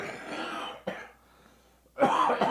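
A few rough, close coughs and throat-clearing bursts from a longtime smoker, with a short quiet gap before a louder final cough.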